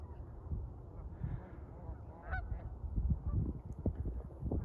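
Canada geese honk on a windy, icy outdoor spot, the calls coming in repeated bursts over steady wind noise and low rumble.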